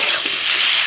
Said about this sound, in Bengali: কচু আলুর সাথে ভালো করে মশলাটা কষিয়ে নিয়েছি